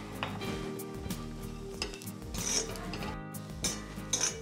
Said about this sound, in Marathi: हे तीळ पण आपले खरपूस भाजत आलेले आहे